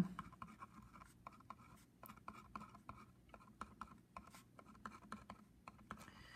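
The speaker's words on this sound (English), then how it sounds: "So we just write that out." A pen writes out a geology answer, faint close scratchy strokes coming in short irregular bursts over a quiet room hum, with no voices.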